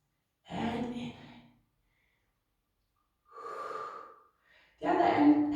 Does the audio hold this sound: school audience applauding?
no